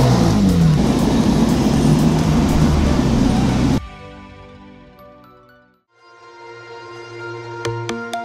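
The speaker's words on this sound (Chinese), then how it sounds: "但是我呀，还是开着我的法拉利回家" A rented Ferrari sports car on the road in Shanghai: a loud, steady engine and road roar for almost four seconds, then a sudden drop to a quiet, tonal cabin hum that swells again near the end.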